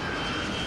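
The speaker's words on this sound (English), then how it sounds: "Now you're looking at a big 747 coming at you" The engines of a Boeing 747 roar loud and close in a brief, dense, steady blast of jet noise with no voices.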